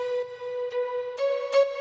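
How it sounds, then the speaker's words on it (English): Short, detached violin spiccato notes from a synth preset in a progressive house layer, playing a steady pitched line with a few accented strikes, clean and alone with no talking. "It's a violin preset, a spiccato."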